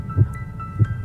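A heartbeat sound effect in a theatrical reading of Poe's "The Tell-Tale Heart": soft, low, muffled thumps in an uneven double rhythm, with no voices over them.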